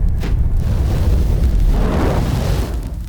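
A gunshot effect within a film soundtrack: a loud, booming blast with a long rumbling tail that fills the whole stretch before easing off at the end.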